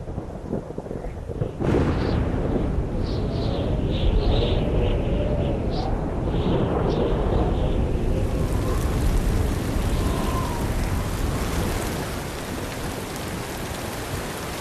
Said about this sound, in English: In the dry season, storms can roll in quickly, but they don't last long.